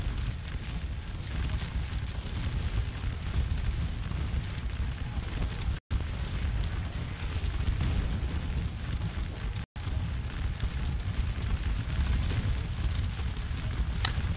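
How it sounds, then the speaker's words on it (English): A continuous artillery barrage in the Napoleonic battle game Scourge of War: Waterloo at Hougoumont, dense rumbling booms and crackling blasts rolling without pause, briefly cut twice. "Very, very deadly barrage, primarily on this unit from the looks of it."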